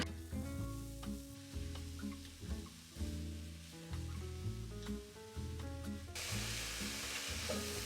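Pulsed vegetables cook in a heated Dutch oven, a soft low sizzle largely buried under steady background music until a brighter hiss of frying swells in near the end.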